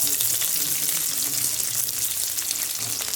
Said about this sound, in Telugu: సన్నగా తరిగి ఒక ఆనియన్ తీసుకున్నామండి, పెద్దది. ఇది ఫ్రై అయ్యేంత వరకు మిక్స్ చేసుకుంటున్నామండి.